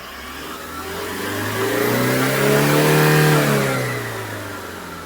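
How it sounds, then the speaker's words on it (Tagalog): A car engine revs up as the accelerator is pressed during diagnostic troubleshooting, rising steadily in pitch and loudness, peaks, then eases back down; loud and close, with no talking. "Apakan ko po ang accelerator."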